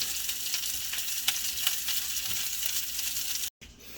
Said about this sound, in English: Oh, that sweet sizzling sound of bacon.